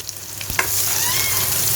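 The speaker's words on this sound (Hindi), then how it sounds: "तो यहाँ पे प्याज हम थोड़े से हल्के से ब्राउन करेंगे जी" Chopped onions frying in half a cup of oil for a kaleji (liver) recipe, a steady close sizzle with a stir near the start that settles into continuous bubbling hiss.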